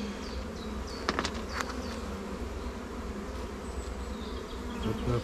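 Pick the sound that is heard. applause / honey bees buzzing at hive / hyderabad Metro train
honey bees buzzing at hive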